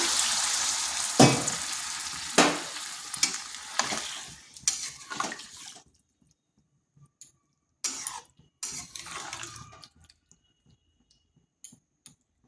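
A little water poured into a pan of frying cauliflower and egg curry sets off loud bursts of sizzling and stirring scrapes that die down into near silence, with sparse later spatters.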